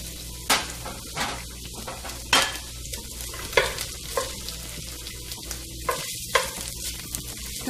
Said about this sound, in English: I'm going to give that a saute around the pan